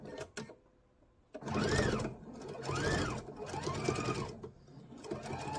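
A sewing machine quilts the layers of a small mug rug with lavender thread in several close, steady bursts of rapid stitching, each a few seconds long, after a quiet pause near the start.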